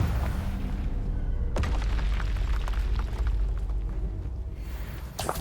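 Confringo spell blast in the video game Hogwarts Legacy, a loud booming fiery explosion with a sharp crack partway through, rumbling continuously before tailing off and then bursting again at the end.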